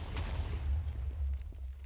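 A deep, rumbling video-game explosion rolls on for about two seconds, with a heavy low boom that stays fairly quiet and steady.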